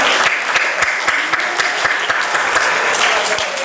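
An audience applauds a disabled child, dense sustained clapping from many hands filling the room, steady and loud throughout.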